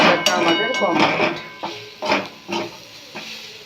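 Chana dal frying in a pan gives a hissing sizzle broken by repeated scraping and clattering strokes of a spatula against the metal, loud and close.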